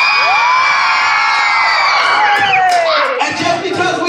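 Loud, sustained cheering from a high school audience at a dance show, with shrill whoops and screams sliding in pitch over a dense roar of voices, ending in choppy shouting.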